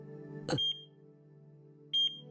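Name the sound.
heart monitor machine beeping in the Chaos;Child video game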